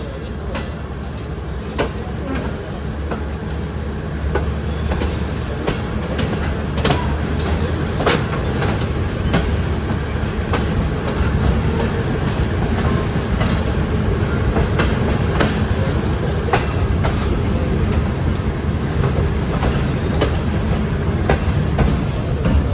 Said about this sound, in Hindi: और सामने जो ट्रेन आपको नज़र आ रही है वो है जी